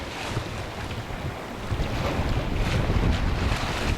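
Steady wind roars at sea aboard the small sailing yacht Mingming II, with broadband rushing and gusting noise and water wash against the hull, continuous and loud with no voices.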